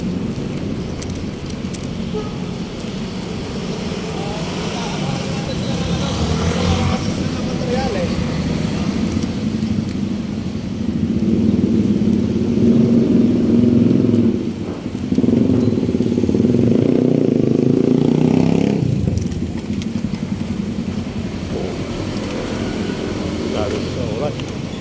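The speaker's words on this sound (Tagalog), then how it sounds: "may mga motor na tinitesting siguro" Motorcycle engines rev and drone nearby, rising and falling in bursts as they are test-revved, while a person talks over steady traffic noise on España Boulevard, Manila.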